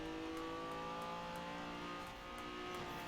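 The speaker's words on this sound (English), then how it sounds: "This car sounds pretty nice from inside." A race car engine drones steadily at high revs with a whirring tone, heard from inside the car in Forza Horizon 4, faint and even with no voices.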